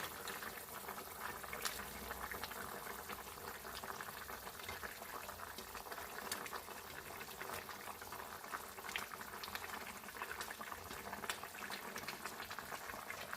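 A pot of masoor dal and egg curry bubbles at a steady, quiet boil, with a continuous soft churning broken by small pops and no talk.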